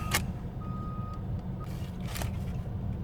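A school bus backing up, its reversing alarm giving a few sharp, evenly spaced beeps over a low truck engine rumble, heard at moderate distance with no talk.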